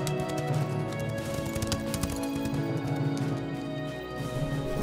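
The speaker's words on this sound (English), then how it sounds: "No other horse is faster than you, Flick." A cartoon horse gallops with rapid rhythmic hoofbeats under a dense bed of orchestral music and effects, steady and fairly loud throughout.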